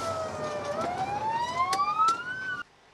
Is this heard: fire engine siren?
yes